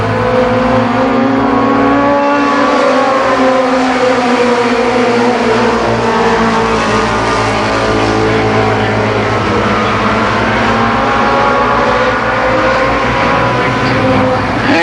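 ARCA Pro 4 race cars roar around the Columbus Motor Speedway oval in 1990, a continuous loud engine drone with shifting revs as the pack passes, layered under steady commentary.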